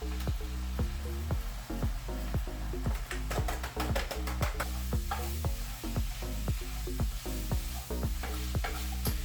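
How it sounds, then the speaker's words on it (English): Taco seasoning being stirred into food frying in a pan for a spaghetti squash dish, rhythmic spoon scrapes and taps repeating over a continuous close sizzle. "stir in the taco seasoning."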